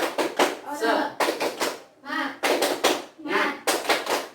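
Elementary schoolchildren in a class perform a rhythmic spirit clap, clapping in quick grouped bursts separated by short pauses, with the children chanting between the clap patterns.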